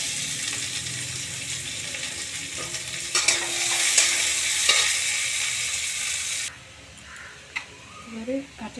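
Chopped onion and minced garlic frying in a pan give a loud, steady sizzle that swells midway and drops off abruptly near the end, leaving quieter scraping and a few faint clinks.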